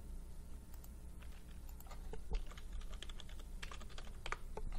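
Search term typed on a computer keyboard, a quiet, close run of irregular key clicks over a low steady background hum, with no talking.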